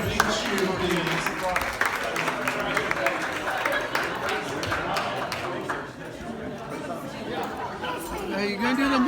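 Wedding guests cheer and clap for a father-daughter dance, a steady, busy crowd sound of applause mixed with chatter and voices throughout.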